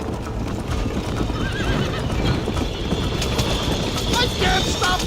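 In the video game Red Dead Redemption, horses gallop with a rapid clip-clop of hooves and several whinnies and neighs ring out over a steady rumble, with voices talking underneath.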